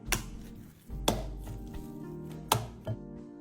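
Minced pork tossed and slapped by hand or with a scraper, heard as a few sharp, separate slaps and thuds at close range with quiet gaps between them.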